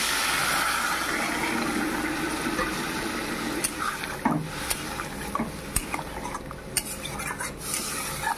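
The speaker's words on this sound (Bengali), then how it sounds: "তো গাইস এখন দিয়ে দেবো এতে জল" Water poured into a simmering egg and potato curry in a cooking pot: a steady broadband rush runs for the first few seconds, then gives way to scattered clinks and scrapes of a utensil against the pan.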